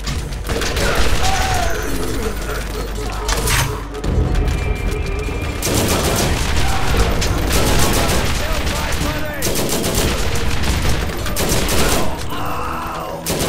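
Machine pistol fire in a video game, loud and near: dense rapid bursts and sustained automatic volleys mixed with booms and mechanical clatter through most of the clip.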